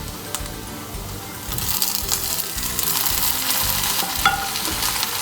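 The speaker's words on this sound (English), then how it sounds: "And I'm going to let all of this fry." Onions and tomatoes fry in a pan for a chole tikka masala, with a steady close sizzle and hiss, occasional light scrapes and clinks from stirring.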